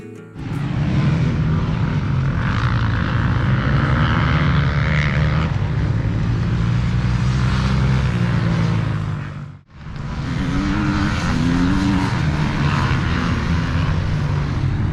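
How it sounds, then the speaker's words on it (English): Enduro motorcycles from a Lincolnshire enduro club ride past, a loud continuous engine drone with shifting revs, a brief gap as one passes, then another machine roaring through. "I heard a familiar noise and came across this. It's Lincolnshire Enduro Club. Not motocross, enduro."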